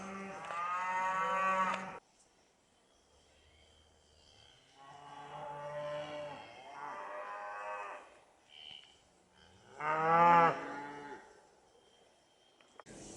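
Cows mooing in a field, several loud, drawn-out moos from nearby animals with quieter lowing between them.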